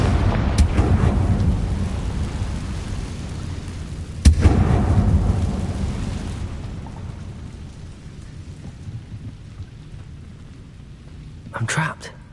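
A Confringo spell blast in a Harry Potter video game on PS4, a sharp explosive crack followed by a rumbling, rain-like roar that slowly fades, with a smaller burst near the end.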